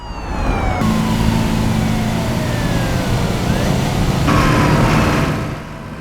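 In a film's closing scene, a wailing siren on a speeding car sweeps up and down over a steady vehicle engine rumble, loud and continuous, swelling louder near the end before easing off.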